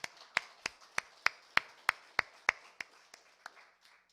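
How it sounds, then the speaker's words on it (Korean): A church congregation gives a short round of applause during a Sunday worship service, about a dozen crisp, evenly spaced claps that ring out clearly and then taper off softly. "이 하나님께 감사와 영광의 박수를 한번 올려드리겠습니다"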